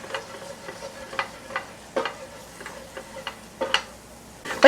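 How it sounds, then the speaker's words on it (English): Flour is stirred into melted butter in a pan with a steady run of soft scrapes and light taps, clear and close, with a faint sizzle beneath and no talk. "To our pan, let's add some more butter. Allow that butter to melt down. Let's add some flour, stir it on in."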